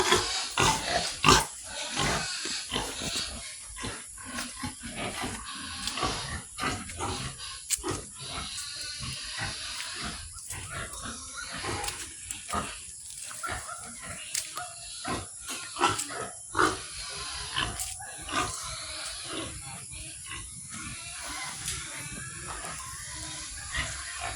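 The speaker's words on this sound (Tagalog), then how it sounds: "Meron po tayo na itong dalawang native. Ito yung ating barako." Native pigs and a breeding boar on a Filipino farm grunt and snort close up in rough, irregular bursts, with deeper growling roars from the boar mixed in over about twenty-five seconds.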